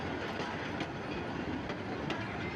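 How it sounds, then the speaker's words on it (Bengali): A passenger train bound for Dhaka's Kamalapur station rolls past the Dhaka Airport rail crossing, giving a steady close rumble of wagons with faint wheel clatter and no voices. "খুব সুন্দর একটি ট্রেন"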